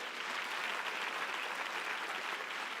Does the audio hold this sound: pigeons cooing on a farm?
no